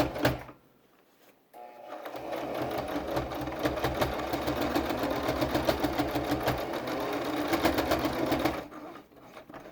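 A sewing machine stitches steadily over pleats in a fabric mask, in a fast mechanical patter for several seconds, starting after a brief pause and stopping near the end.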